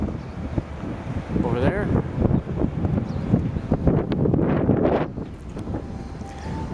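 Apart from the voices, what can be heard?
wind at Niagara Falls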